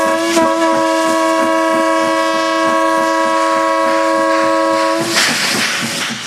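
SY class steam locomotive departing on a Chinese industrial coal railway, sounding a loud, sustained chime whistle for about five seconds over steady chuffing and rail noise, with a burst of exhaust as the whistle cuts off.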